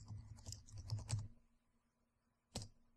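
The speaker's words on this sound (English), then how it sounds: "So you can type in some text you want." Typing on a computer keyboard: a quick run of soft, close key taps for about a second and a half, then quiet, then one final key press.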